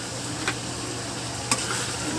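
Pork dinuguan is stirred in a pan, a steady low simmering hiss with two sharp scrapes of the utensil against the pan, close and without talk.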